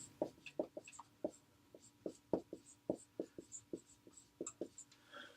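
A marker writes on a board in short, quick squeaky strokes, a steady run of close, distinct scratches with brief pauses between words.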